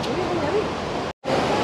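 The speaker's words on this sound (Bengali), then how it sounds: "জলের শব্দ মানে রিম্বি নদীর শব্দ" Water of the Rimbi river near Pelling, Sikkim, rushes in a loud, steady broadband roar, briefly cut by a short gap, with a voice present over it.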